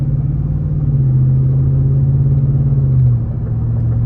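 Ford F150 with a 5.0 V8 and Flowmaster 40 exhaust rumbling steadily as it shifts gears, a deep continuous drone that holds level then dips briefly near the end at a gear change, heard from inside with windows up.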